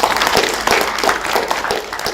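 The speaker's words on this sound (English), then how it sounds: "Give yourselves a round of applause." Audience applause at a college conference on prison programs and reentry: steady, fairly loud clapping from a crowd filling the whole short stretch.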